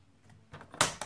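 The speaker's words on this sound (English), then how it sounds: "Always use my paper trimmer because I always want to make sure that I'm" A paper trimmer slices paper during envelope-making crafts, with a faint rustle followed by a sharp snapping cut and a second quieter click, close and alone.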